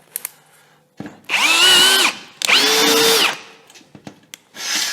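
Einhell TP-CD 18/60 Li-i BL cordless brushless impact drill running, two close, loud bursts of steady whirring with a rising start and falling stop, followed by a brief third start, with clicks and handling noises between.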